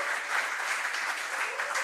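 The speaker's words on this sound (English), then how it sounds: "One final applause for Coach Drake." Brief audience applause for head coach Don Drake, a short burst of steady, somewhat distant clapping with no talk over it.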